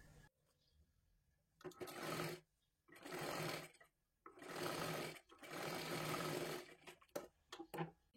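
A sewing machine stitches a princess-cut blouse in several close, loud bursts separated by brief pauses, with short stop-start runs near the end.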